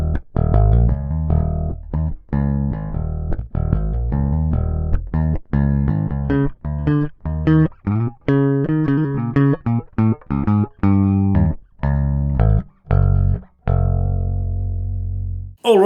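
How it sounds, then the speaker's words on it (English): A bass guitar played dry straight into a sound card, with clean plucked notes and short phrases repeating in a steady rhythm, loud and close with no voice. "It's just a bass right into my sound card"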